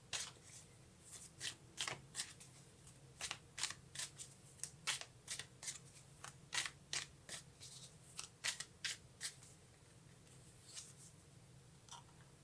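Tarot cards shuffled by hand in a quiet room, a run of crisp riffling flicks and slaps repeating in a quick uneven rhythm, close and clear, thinning out toward the end.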